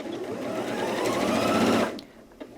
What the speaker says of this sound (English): hold down the reverse button and the machine will sew backwards